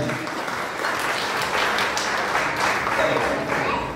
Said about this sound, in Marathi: हरिदास सर आणि त्यांची वाईफसाठी जोरदार टाळ्या होत्या